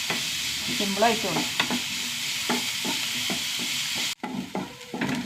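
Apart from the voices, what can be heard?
sautéing sliced onions in a pan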